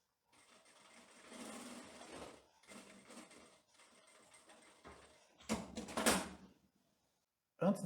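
Sewing machine stitching a trouser lapel, running in several close bursts of whirring stitches separated by short pauses, the last bursts louder and sharper.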